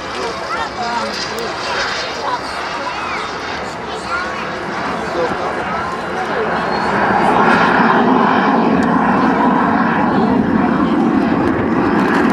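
A Cirrus SJ-50 jet passes low and slow at an airshow, its engine roar building and swelling louder toward the end, with an announcer talking over the crowd noise.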